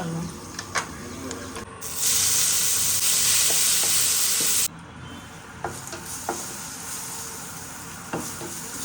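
Onions frying in a pan, a steady sizzle under intermittent stirring clicks, with a louder burst of hissing for a few seconds before settling back.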